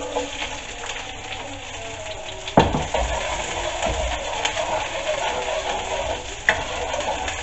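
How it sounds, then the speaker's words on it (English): Onions stir-frying in smoking hot oil for a chicken jalfrezi: a steady close sizzle with scraping stirs, and a sharp loud burst near the middle and another toward the end. "it's starting to smoke now, so we'll add the onions first"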